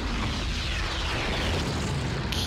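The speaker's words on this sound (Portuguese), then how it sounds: "Ai, que épico esta explosão." An explosion in Grand Theft Auto V roars as a loud, dense blast of noise that holds for a couple of seconds before a slight shift at the end.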